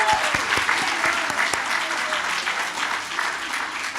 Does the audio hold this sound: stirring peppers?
no